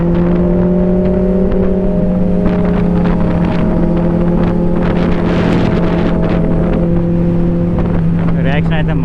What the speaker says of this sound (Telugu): బైక్లో 2 ఉన్నాయి కదా, టూ మచ్ సౌండ్ అయిపోయింది